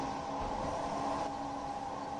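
A Bombardier Traxx locomotive in Train Sim World 3 hums and rumbles steadily, a quiet continuous drone with tonal motor whine and no voices.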